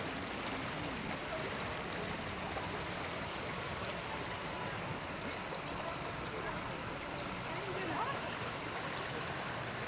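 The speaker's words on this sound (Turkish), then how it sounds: "Vadinin tabanında güzel bir dere akmakta." A stream flowing along the floor of a rocky valley in Cappadocia, Turkey, makes a steady, soft, continuous rush of water with no breaks.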